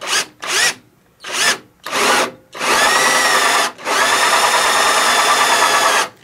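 A cordless drill bores a hole in a clamped wooden board, starting with four short bursts of the motor before two long, steady runs, loud and close with no talk.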